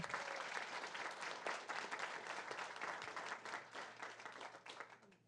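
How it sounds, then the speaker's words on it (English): Audience gives a round of applause for a retiring school district employee at a board of education meeting, dense steady clapping from a roomful of people that holds for several seconds and then gradually thins out, with no talk over it. "Let's give him a round of applause again."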